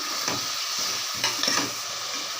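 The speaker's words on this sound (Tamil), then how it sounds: "இது நல்லா வதங்கிட்டு இருக்கு." Chopped onions and tomatoes sauté in a pan for a kurma, giving a steady close sizzle with a few brief stirring scrapes and no talk.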